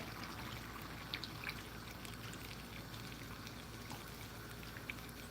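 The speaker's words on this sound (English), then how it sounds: "I'm gonna put like, let's say, 2 cups of water." Water is poured into a pan for cooking butternut squash, making a steady, faint trickle and splash that runs unbroken and alone for several seconds.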